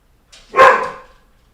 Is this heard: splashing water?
no